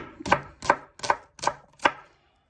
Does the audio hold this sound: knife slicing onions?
yes